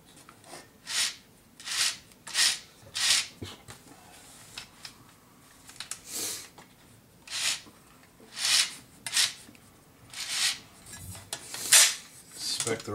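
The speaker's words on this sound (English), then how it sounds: "Just spin it around a bit. Clean some of the gunk out of this chain." Repeated scraping and rubbing strokes as gunk is cleaned from a spinning chain, each swipe a short gritty rasp with brief pauses between, close and fairly quiet.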